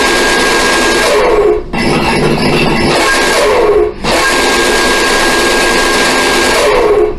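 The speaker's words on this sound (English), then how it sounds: "if we hit this button, it rotates the machine guns in the front" The front machine guns of an RC toy Batmobile spin with a loud, steady mechanical whir. It runs in three long bursts separated by brief dips.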